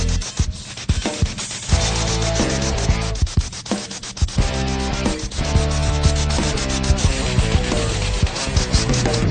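Grease worked into the main rod of a Union Pacific steam locomotive, a close, loud, continuous rubbing and scraping with repeated rhythmic strokes and sharp knocks throughout.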